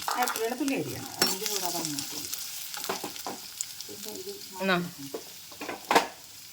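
Ginger fries in ghee while being stirred. A steady close sizzle runs under repeated scraping strokes in an uneven rhythm, with a few sharper clatters near the end.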